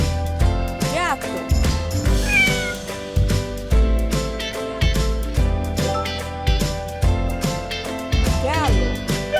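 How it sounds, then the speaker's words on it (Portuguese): A cat meows several times, loud and close, with drawn-out calls rising and falling over continuous background music in an animal-sounds game. "gato"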